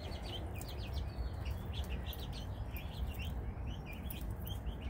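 Pet parakeets chirp and tweet while they eat. The quick high calls come in bunches over a rustling background, fairly faint and with no speech.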